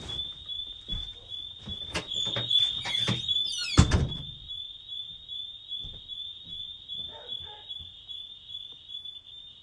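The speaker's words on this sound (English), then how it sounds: "forgot a damn alarm system was on last night" A home alarm system going off: a steady high electronic tone sounds continuously throughout, with door thuds, clunks and handling noises mixed in during the first few seconds.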